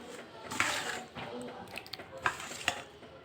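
A spoon works through a thick batter of flattened rice, semolina and curd, giving soft, quiet scraping strokes with a few sharper clicks against the bowl at an uneven rhythm.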